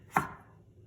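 A single knife chop through vegetables for a Lebanese fattoush salad, one sharp close thud on the board followed by a short fade into quiet.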